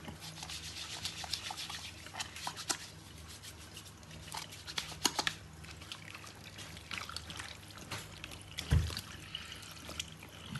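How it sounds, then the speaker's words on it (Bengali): Water runs faintly from a restaurant sink in Japan as hands are washed, with soft rubbing and trickling sounds and a few sharper splashes close by. "তো এই যে আমি হাত ধুয়ে নিচ্ছি।"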